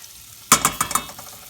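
Butter hitting a hot pan, a sudden sizzling burst followed by a few quick pulsing crackles that fade over about a second, close and fairly loud.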